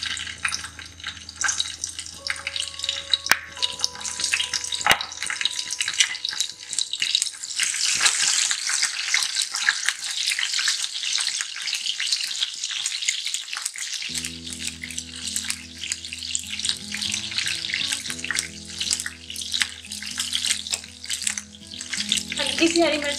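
Oil crackles and sizzles steadily as green chillies fry in a pan for mutton karahi, a continuous bright hiss with occasional pops, with soft music underneath.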